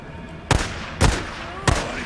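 Three sharp, loud rifle shots from the zombie survival video game Days Gone, evenly spaced about half a second apart, each with a short echoing tail over quiet ambience.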